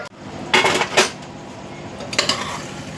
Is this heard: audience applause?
no